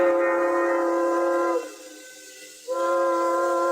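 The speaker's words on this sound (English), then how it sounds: "What he was waiting for was the boat whistle." A boat's loud, steady whistle sounds close by, pauses briefly for about a second, then blasts again at the same pitch.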